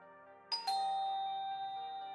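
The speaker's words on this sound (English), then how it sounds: "Bell rattles." A doorbell chimes twice in quick succession, a bright two-tone ding with ringing overtones that sustains and slowly fades, heard alone against a faint steady background hum.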